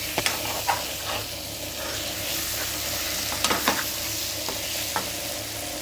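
Egg curry with onions frying in a pan while being stirred, a soft continuous sizzle with scattered light scraping clinks of the spoon against the pan.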